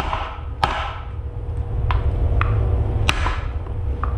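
A hammer taps on a cylinder of an old Willys Jeep F-head or L-head junk engine, giving several sharp, separate metallic strikes with a ringing, higher-pitched tone over a steady low background rumble.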